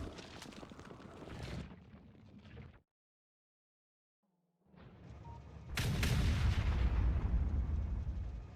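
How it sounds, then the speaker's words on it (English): Artillery firing in the game Factorio, heavy booming blasts in bursts, loud and close, with a gap of silence midway before a sustained roaring barrage. "Artillery."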